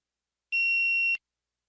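A single clean electronic beep, the tone for starting a TOEFL speaking response, lasting just over half a second and standing alone against silence.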